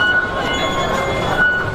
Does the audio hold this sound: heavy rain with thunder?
no